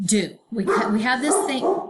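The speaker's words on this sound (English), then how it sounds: "sorry, that was my dog." A pet dog barks and yips in short bursts close by, tangled up with someone speaking over it.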